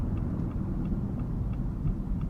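Cabin of a 2015 Dodge Journey SXT AWD driving with a window down: a steady, loud low road rumble and engine drone with wind noise, continuous and unbroken.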